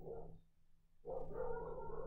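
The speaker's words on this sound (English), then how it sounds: "sorry if you can hear my dogs barking" Dogs bark indoors at a home during a live online computing workshop, a faint, muffled burst that breaks off, goes quiet for a moment, then resumes more steadily from another room.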